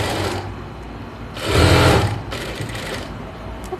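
Sewing machine stitching a cloth face mask, a steady mechanical whir that swells loudest in a short burst mid-way, then continues more quietly to the end.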